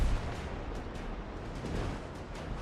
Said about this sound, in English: Those cannonballs were fired straight into the ether.